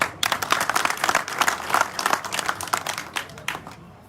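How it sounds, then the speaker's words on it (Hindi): Applause from a crowd at an election rally in Gwalior, loud uneven clapping in bursts that gradually fades over a few seconds. "इतनी तालियों से काम नहीं चलेगा"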